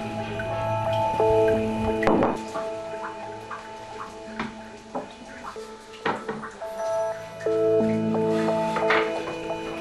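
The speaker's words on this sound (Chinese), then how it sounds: "滴答滴答的声音提醒着李翠珍豆腐压好的时间" Water drips steadily from tofu pressed under wooden boards in cloth, in a Yunnan tofu-making village; soft, irregular ticking drops sit over a sustained tonal music bed.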